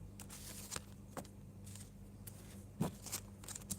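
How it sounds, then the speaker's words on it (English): A deck of playing cards is shuffled quietly, with soft riffles and snaps at irregular intervals over a faint background hiss. "let me shuffle this stack, those cards"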